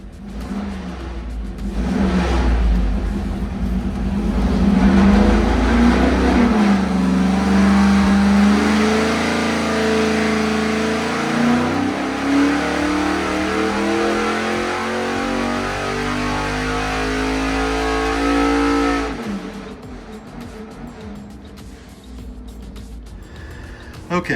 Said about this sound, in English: it was time to fire the engine up and make another pull.